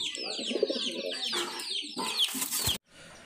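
A pet pigeon calls among other birds: bright overlapping chirps and clucks fill most of the clip, then cut off abruptly near the end, leaving a quieter hum.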